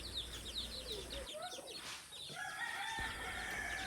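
Chicks peeping inside a cage, with high chirps repeating over several seconds, a rooster crowing along with them, and clucking nearby.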